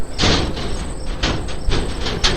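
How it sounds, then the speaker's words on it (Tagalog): An old mirror in a living room thuds and bangs as if knocked from inside, several dull uneven knocks in a row with rattling between them, close by and fairly loud, with no voices. "Biglang kumalabog ang salamin. Tunog parang may kumatok mula sa loob."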